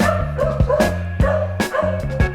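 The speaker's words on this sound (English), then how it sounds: "now all the dogs are barking for some reason" Several dogs bark and yip in quick, overlapping bursts, close and loud, with a steady low hum running underneath throughout.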